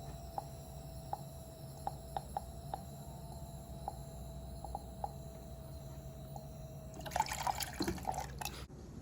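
Warm water trickles and drips steadily into the cold tank of an Avalon water cooler, with a soft continuous hum beneath and a brief louder splashing gush near the end.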